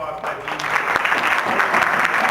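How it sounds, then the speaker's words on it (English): An audience at a statewide community health roundtable gives a loud round of clapping that builds quickly and stays dense. A voice speaks over the applause. "So first of all, thank you. A round of applause,"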